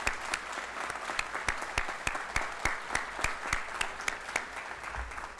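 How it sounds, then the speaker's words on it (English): Applause from the audience at a Texas Windham School District board of trustees meeting after a TDCJ honor guard presents the colors, a steady moderate clapping that carries on for several seconds without speech. "I think we owe some further applause"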